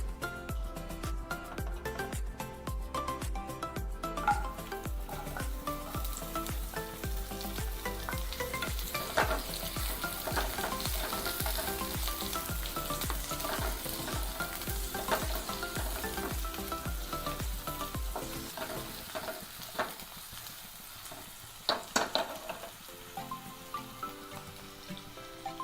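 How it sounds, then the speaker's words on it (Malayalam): Sliced onions fry in hot coconut oil with a steady close sizzle and occasional stirring for an egg curry, crackling continuously before quieting toward the end. "വെളിച്ചെണ്ണ ചൂടായി കഴിയുമ്പോൾ അതിലേക്ക് സവാള ഇട്ട് കൊടുക്കാം."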